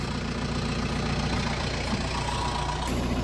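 Vehicle engine idling out of gear with the brake set while getting ready for maple season, a loud, steady low rumble that runs through the whole stretch with no change in pace, no speech.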